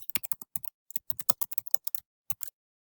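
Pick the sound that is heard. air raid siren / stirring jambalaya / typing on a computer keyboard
typing on a computer keyboard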